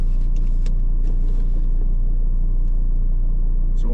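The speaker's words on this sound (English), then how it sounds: "I'll put my seatbelt on and start driving out of here." Car driving out of a parking area after a new battery was fitted, heard from inside: a steady, loud engine rumble with a constant low drone, a few faint clicks and rattles, and no talking.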